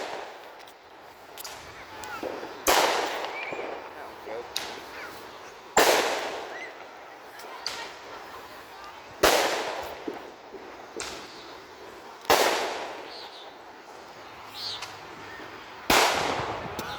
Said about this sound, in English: Firework gun!